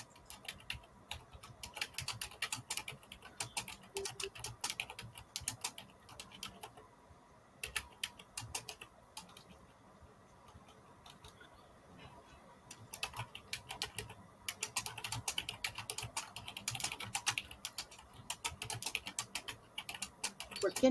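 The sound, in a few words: typing on a computer keyboard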